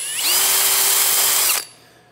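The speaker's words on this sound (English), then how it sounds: "now I'm gonna go with the 16th inch bit drill this out to 16th" A power drill with a 1/16 inch bit bores into a gun barrel for a touch hole liner: a loud, close, high whine that spins up, holds steady for over a second, then winds down.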